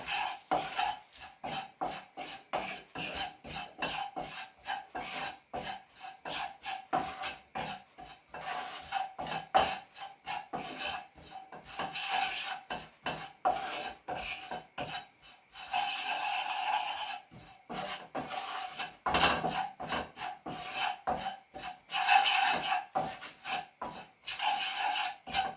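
Turmeric and curry powder cook in oil in a pan for chicken curry, as a utensil scrapes and rubs against the pan bottom in rapid, continuous rasping strokes, close and steady for a long stretch with no talking.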